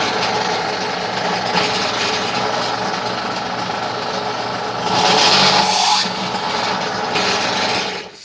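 A quarter-inch bit turned by hand grinds into material with a continuous rasping, whirring scrape that swells louder for a moment near the end before fading out.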